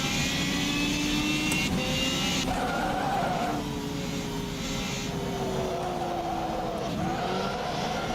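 Race car engine in the rFactor 2 sim racing game whines steadily with gear shifts and rising, falling revs as it brakes for a hairpin, tire squeal woven through, loud and continuous with no talk.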